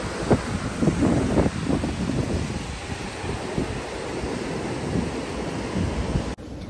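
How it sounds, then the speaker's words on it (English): Steady wind rushing and buffeting outdoors near the shore at La Jolla in the rain, a broad continuous roar with gusty swells, no voices. "It's a little bit windy."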